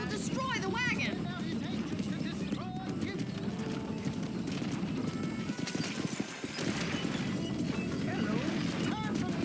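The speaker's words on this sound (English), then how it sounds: "Stay on the main road. These horse trails will destroy the wagon." Horse-drawn wagon on a trail in Red Dead Redemption, with steady clip-clop of hooves, a horse whinnying early on and continuous rumbling wheel noise, with a voice talking over it.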